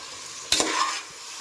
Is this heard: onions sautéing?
yes